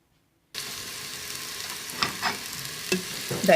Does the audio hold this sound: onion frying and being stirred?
yes